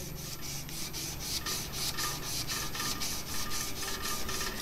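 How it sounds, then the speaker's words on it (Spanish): Hand sanding of a metal engraving plate with 320-grit sandpaper in long strokes, a close, steady abrasive rasp repeating in an even back-and-forth rhythm with no voices. "estoy lijando con una lija de 320"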